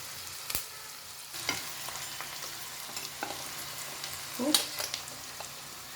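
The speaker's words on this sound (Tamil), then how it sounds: "ஆனியன் ஒரு நல்லா கோல்டன் ஃப்ரை ஆகட்டும்." Sliced onions with a pinch of salt fry in a pan for a baby corn gravy, giving a faint, steady sizzle broken by a few soft stirring clinks and scrapes.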